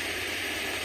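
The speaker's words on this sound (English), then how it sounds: "white noise." An iDealSleep sound machine pours out steady white noise, a bright, even, continuous hiss at constant loudness with no other sounds.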